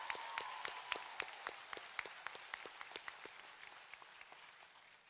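Faint applause from an audience at a winter graduation ceremony, heard as distant, scattered individual claps forming a light, steady patter with no voices over it.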